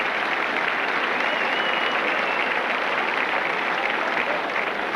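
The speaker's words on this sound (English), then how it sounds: "he receives a round of applause from a Sporting Headingley" A rugby crowd at Headingley breaks into steady, sustained applause as an injured player leaves the field, dense clapping throughout with no break.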